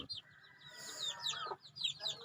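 About 300 chickens on a poultry farm cluck and chatter close by, overlapping squawks rising and falling in a busy, continuous poultry-yard murmur.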